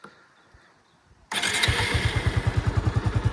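A Bajaj Avenger 220 Street BS4 motorcycle starts after a quiet pause: a sudden crank catches into a loud, close exhaust note that settles into a steady, rapid thumping idle.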